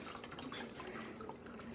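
About eight cups of water poured into a coffee maker, a continuous soft splashing and trickling stream, moderately close and steady throughout.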